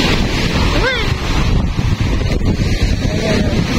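Strong ocean waves breaking at Ilig-Iligan Beach in Boracay, a loud continuous rushing surf with heavy wind buffeting the microphone and faint voices in the background.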